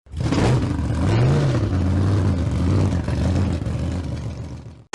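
A Cadillac's engine cranks and catches, then roars up in a quick rev before settling into a steady, loud idle close by, cutting off abruptly near the end.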